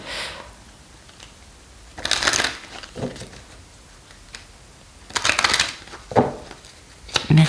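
Tarot cards being shuffled for a card reading, in several separate bursts of dry riffling and crinkling with quiet pauses between them.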